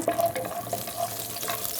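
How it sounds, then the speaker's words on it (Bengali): Fifteen to twenty cashews fry in a small amount of ghee, giving a steady close-up sizzle with light stirring scrapes running throughout. "এখানে দিব 15-20টা কাজু। একটু এটাকে প্রথম ভাজবো।"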